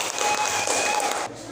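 A classroom of students applauds together, a steady broadband wash of many hands clapping that cuts off abruptly near the end, leaving a quieter tail.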